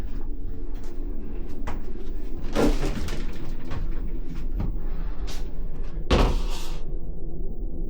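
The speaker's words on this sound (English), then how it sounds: "These doors break in to give you a little more room." Folding bathroom door in an MSC Divina cruise ship balcony cabin, two sharp clattering thuds as the panels fold and knock, with lighter rattles and creaks between, close by over a steady ventilation hum.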